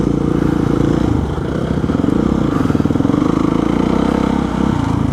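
A Kawasaki KX race dirt bike roars loud and close while being ridden, its engine throbbing steadily with small shifts in revs throughout.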